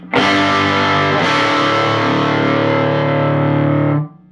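An electric guitar played through an Oldfield Woody amplifier with a boost engaged drives hard into saturation, one loud, thick sustained chord ringing for about four seconds before cutting off abruptly.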